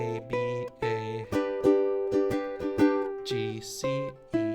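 A ukulele plays an original song, close and clean, with rhythmic strummed chords and plucked notes shifting in steady succession, a few sharp strum attacks standing out.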